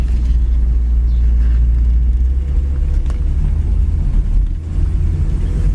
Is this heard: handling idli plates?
no